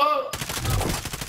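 Rapid gunfire in Call of Duty Warzone bursts out after a brief tonal game sound, a close, loud rattle of repeated shots.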